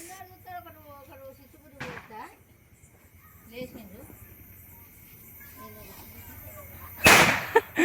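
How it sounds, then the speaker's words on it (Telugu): Diwali firecrackers burst outdoors: a softer crack near the start and a loud, sharp bang near the end, with people talking and birds calling in between. "బాంబులు వేలుతున్నా"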